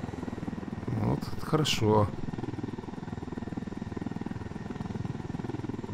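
Steady rotor thrum of a helicopter in Ghost Recon Wildlands runs throughout at moderate level, with a short burst of talk near the start.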